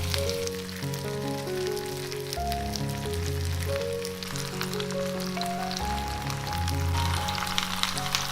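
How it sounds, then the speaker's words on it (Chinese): Fish pieces sizzling in oil in a clay pot over low heat, a steady close crackling hiss that runs without a break, with tonal music playing over it. "炒香了之后就调小火，然后把鱼块摆进来。"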